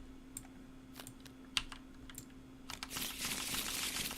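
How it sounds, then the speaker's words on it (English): A deck of Arkham Horror card game cards is handled with scattered light taps, then shuffled in a dense, close riffle that runs to the end. "And we'll give that a shuffle."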